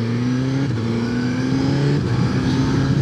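A Suzuki GSX-S 1000GT four-cylinder motorcycle engine drones steadily while riding, its pitch rising gently as it pulls, loud and continuous with wind rush underneath.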